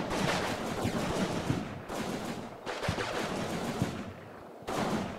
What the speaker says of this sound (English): Now we got infantry firing at infantry